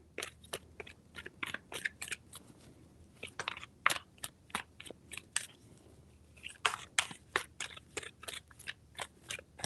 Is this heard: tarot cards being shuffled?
yes